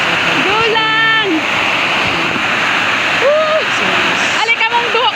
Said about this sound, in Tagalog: Back to waterfalls view.